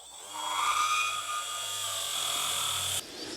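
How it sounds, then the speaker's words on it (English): A carbide burr grinds into a plastic Acerbis X-Factory hand guard grip on a KX450X, giving a steady, close, whining rasp that runs for about three seconds before cutting off abruptly. "I actually like the method of a carbide burr."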